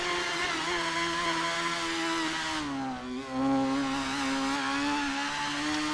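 A racing-team motorcycle engine at a workshop is held at its rev limit, giving a sustained buzzing drone with a brief dip near the middle before it climbs back to a steady, moderately loud whine.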